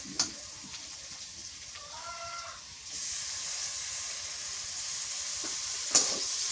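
Garlic paste and coriander leaves drop into a hot pan while a village-style dried-fish and greens curry cooks, a quiet stretch with small clinks giving way to a steady, close hiss of frying, with a sharp clank near the end.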